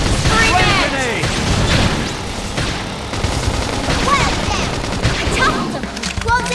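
A grenade explodes during combat in the Xenoblade Chronicles X video game, a loud boom heard among rapid weapon fire, layered game effects and voices.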